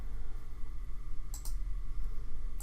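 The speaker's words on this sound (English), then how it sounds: "Click link." A computer mouse clicks a link in Google Drawings, two quick sharp clicks close together near the middle, over a steady low background hum.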